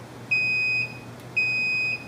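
Two short, clean electronic beeps from a digital multimeter in continuity mode as its probes touch, each lasting about half a second over a faint background hum.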